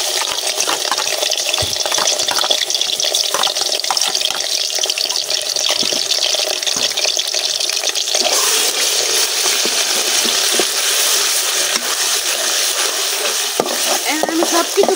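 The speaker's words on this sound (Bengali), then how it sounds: "এখন আমি দিয়ে দিতেছি বাটার আদা রসুন, বাটার রাখা পেঁয়াজ, সবকিছু একবার দিয়ে দিতেছি।" Ginger-garlic paste and onion hitting hot oil in a pan on a clay village stove, a loud continuous sizzle and crackle close by, with occasional stirring scrapes throughout.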